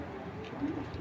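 A racing Giribaz pigeon coos in a low, steady murmur close by, a soft continuous throaty rumble over faint background noise.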